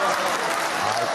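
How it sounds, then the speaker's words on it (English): A studio audience at a talk-show taping applauds in a dense, even burst of clapping, fairly loud and sustained, with Adam Carolla among those clapping. "Adam Carolla is clapping."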